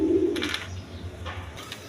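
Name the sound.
beauty pigeons cooing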